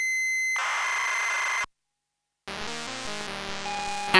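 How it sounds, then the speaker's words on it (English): Computer game data tones played back from a cassette on a Groov-E tape recorder: a steady high whine and buzz, a second of silence, then louder warbling, stepping electronic tones with fluctuating pitch, close and alone with no talk. "you can hear those tones in the background before I stop the tape recorder"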